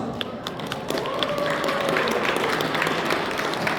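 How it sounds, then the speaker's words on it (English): Dense applause from a convention audience at Royalcon in Austria fills the clip, steady and sustained, with scattered sharper claps throughout. "please, a big applause!"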